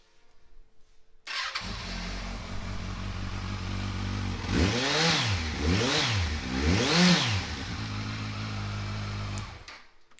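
A motorcycle with an aftermarket exhaust starts with a sudden catch into a steady close idle, then revs three times in rising and falling swells before settling back to idle and cutting off.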